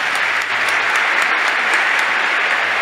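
A congregation at a church talk applauds in praise of Jesus, a loud, dense, even wash of clapping heard on its own from start to finish.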